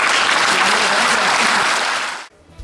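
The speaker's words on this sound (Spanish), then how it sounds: "aquí vamos a dar un aplauso" A crowd at a community visit in El Naranjo applauds for the municipal president, loud, dense clapping that holds steady and then cuts off abruptly near the end.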